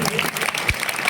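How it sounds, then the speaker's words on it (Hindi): Award ceremony audience clapping, a dense burst of applause heard briefly and close, filling the whole moment. "और एक बार जोरदार तालियां होनी चाहिए।"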